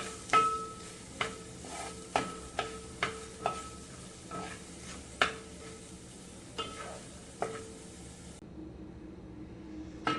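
Curry leaves in hot oil for a dry potato dish, a spoon knocking against the pan in sharp intermittent taps over a quiet, faint sizzle, close but low in level.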